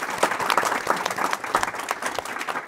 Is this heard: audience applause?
yes